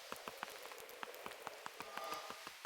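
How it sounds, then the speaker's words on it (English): Rain falling in the Minecraft video game, a steady soft patter of many small drops with sharper taps scattered throughout, quiet and unbroken, with no voices. "To hear the rain going is always a good sound to hear."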